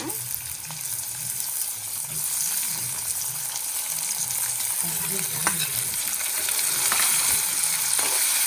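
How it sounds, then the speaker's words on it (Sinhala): Chopped tomatoes hit a pan of frying spices for chicken biryani, giving a steady close sizzle with intermittent stirring scrapes throughout. "ඊට පස්සේ අපි කොටුවට කපාගත් තක්කාලි ටික දා ගන්නවා."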